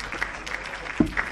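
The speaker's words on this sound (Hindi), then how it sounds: "तालियां बजाते रहिए।" Audience applause at a formal ceremony where agriculture and forest department officials are called up, a brief patch of clapping with a few sharper claps standing out and a voice faintly present.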